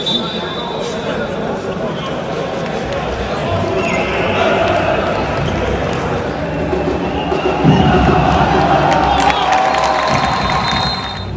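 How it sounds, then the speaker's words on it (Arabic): Basketball arena crowd during a premier division playoff semifinal, a steady roar of cheering and shouting throughout with swells of louder whoops, ball bounces and chatter mixed into the din. "راكم عارفين تعيشوا الاجواء، تسمعوا الجمهور"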